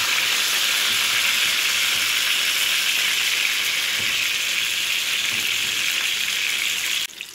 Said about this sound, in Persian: هم کاملا سرخش میکنم. هر 4 طرفش هم باید سرخش کنیم.